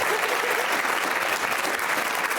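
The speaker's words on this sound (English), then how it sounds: "give a round of applause" Studio audience applause on a daytime talk show, a dense continuous wash of clapping throughout, loud and even with no pauses or talk.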